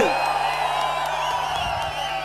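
A dense crowd roars and whoops at an outdoor Tamil political rally in Thirumangalam constituency, with a continuous loud mass of voices and a sustained horn-like tone running underneath.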